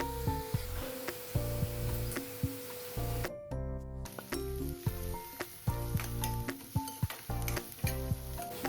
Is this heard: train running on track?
no